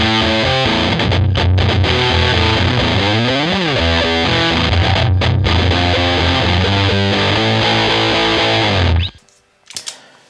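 An electric guitar plays through a Big Muff fuzz pedal, loud, saturated and buzzing with sustained chords and bends, then stops abruptly near the end.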